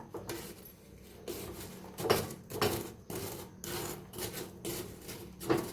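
Fresh besan boondi gets stirred in a covered pot with rhythmic scraping and rubbing strokes, about a dozen close, moderately loud passes with short pauses between them.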